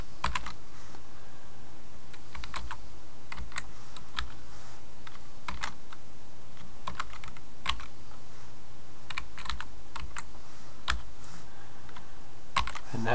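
Rapid, uneven keystrokes on a computer keyboard as HTML is typed for a web page, close and clear over a low steady background hum, with no voices.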